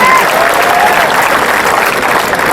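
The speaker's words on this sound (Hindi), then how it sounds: "तालियां बजाएं" Audience applause welcoming a speaker at a comic poetry gathering, a loud, dense, sustained clapping from a large crowd filling the whole moment.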